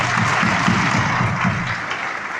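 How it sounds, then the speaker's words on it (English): Audience applause at a trading seminar in London, a dense, steady wash of many hands clapping close and loud throughout, with no voices over it. "Give yourselves a round of applause."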